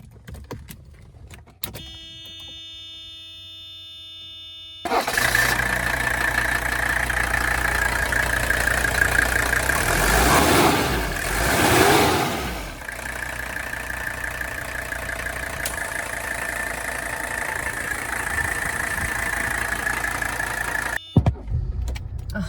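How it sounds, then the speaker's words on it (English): Keys jangle, then the diesel engine of a 1985 Mercedes-Benz 300SD W126 cranks and catches, settling into a steady, close idle rumble that runs for many seconds before cutting off. "The sound of that diesel engine, every time it starts up, it's just absolutely a perfect sounding engine."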